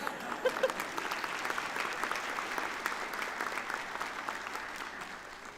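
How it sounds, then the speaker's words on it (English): Audience at a university winter commencement ceremony applauding steadily, a dense wash of many hands clapping at moderate distance, sustained and even throughout with no voices standing out. "You can clap. That's fine."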